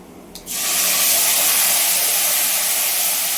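Mint and coriander leaves sautéing in sesame oil for a thogaiyal: a sudden loud, steady sizzling hiss that starts about half a second in and holds at full strength, close by, with no talking.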